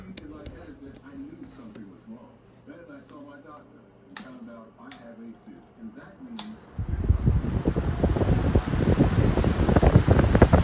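A vintage 18-inch electric fan switches on to full power partway through, its broad rushing airflow swelling loud and steady after someone talks over quieter sounds.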